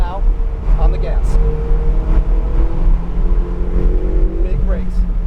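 Ferrari 488 GTB driven on a track at Pontiac, its engine note rising and falling steadily through a sweeping corner, loud and close, with an instructor's voice talking over it.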